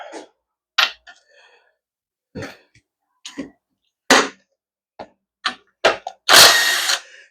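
A 3/4-inch (19 mm) ratchet wrench backs out an automatic transmission's intermediate band strut pin. Short, close clicking bursts come in an irregular stop-start rhythm, ending in a longer, louder ratcheting run.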